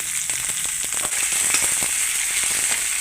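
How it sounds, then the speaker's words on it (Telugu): Chopped onion fries for a raw banana curry, giving a loud, dense, continuous sizzle with crackling pops scattered throughout. "ఉల్లిగడ్డ కొంచెం రోస్ట్గా వేయాలి"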